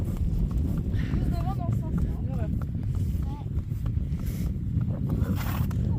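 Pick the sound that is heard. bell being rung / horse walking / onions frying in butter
horse walking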